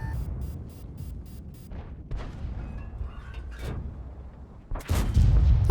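Tank cannon fire in World of Tanks, a heavy boom landing near the end after scattered clicks and rumbling battle ambience, no voices.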